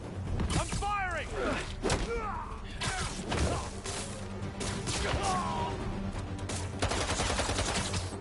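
Gunfire in the video game Spider-Man 2 during a street fight: scattered loud shots and impacts mixed with shattering debris, whooshing effects and voices throughout.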